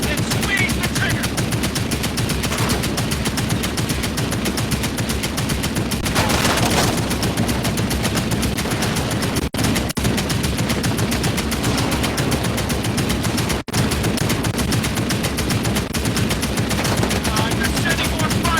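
A mounted aircraft turret machine gun fires in Medal of Honor: Above and Beyond, a dense and continuous loud rattle that runs without a break over engine drone, with two brief cut-outs.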